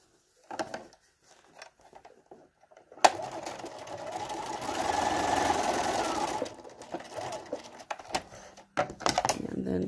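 A sewing machine stitches the seams of a millefiori quilt in one sustained, rapid run of a few seconds, framed by quieter handling noises and brief pauses before and after.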